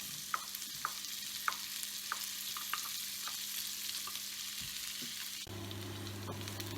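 Garlic and onion fry in a pan with a steady bright sizzle, while a utensil taps and scrapes in an even rhythm about every half second; a low hum rises near the end, no one speaks.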